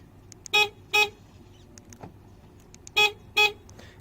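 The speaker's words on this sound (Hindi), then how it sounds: "अब जो इसका सेकंड डिसएडवांटेज है ना, वो है इसका लॉक और अनलॉक साउंड।" Two pairs of short, thin electronic lock and unlock beeps from a Hyundai Venue car, each pair quick and close together, with quiet pauses between the pairs.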